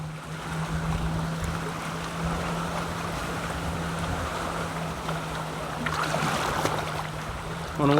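Waves wash and slosh against a kayak on open water, making a continuous broad rush with gusts of wind noise and a brief louder splash near the end.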